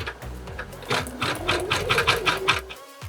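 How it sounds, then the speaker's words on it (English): Embroidery machine stitching a vinyl felt space mouse, rapid rhythmic needle clatter close up and fairly quiet, pulsing in quick even bursts before stopping. "you will see right now on your screen what it's going to look like on your embroidery machine"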